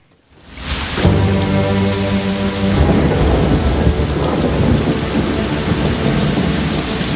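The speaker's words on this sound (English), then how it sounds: "rain hitting the mud." Heavy rain pounding a muddy field at night beside a penitentiary fence, with thunder: a loud, dense, continuous downpour that starts abruptly and carries a deep rumbling roar under it throughout.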